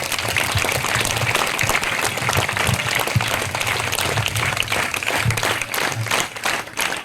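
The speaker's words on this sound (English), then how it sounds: "round of applause." Applause from students at a school badge distribution ceremony for classes 6 to 9: dense, steady clapping from a crowded room, fairly close and continuous throughout, with faint voices underneath.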